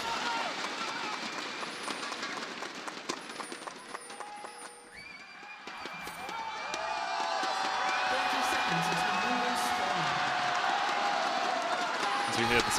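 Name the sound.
crowd of fans cheering in Chengdu arena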